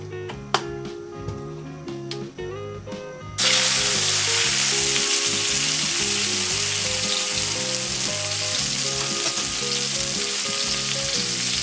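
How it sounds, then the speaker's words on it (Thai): Mixed vegetables stir-frying in sunflower or olive oil for a vegetarian Thai mixed vegetable dish, a loud steady sizzle that bursts in suddenly after a few seconds of music and then continues without a break. "น้ำมันดอกทานตะวันหรือ น้ำมันมะกอกก็ได้ค่ะ เพื่อที่จะผัดนะ"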